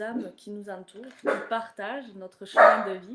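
A pet dog barks in short bursts at home, the loudest near the end, under someone speaking French continuously.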